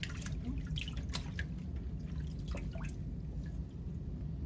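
Water drips and trickles steadily while a 64-channel EEG saline cap fills, a continuous wet patter with scattered sharper drops over a low background hum.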